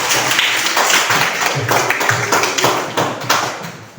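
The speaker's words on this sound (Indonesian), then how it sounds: "Tepuk tangan dulu untuk kita." Elementary school students clap in a classroom, a loud, close burst of scattered hand claps and taps lasting about four seconds, fading toward the end.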